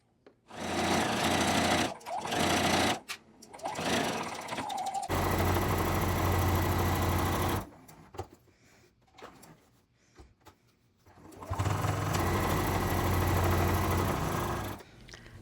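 A sewing machine stitching a zipper into a fabric pouch with lining, running in several loud close bursts of rapid motor hum and needle chatter separated by quiet pauses and fabric handling.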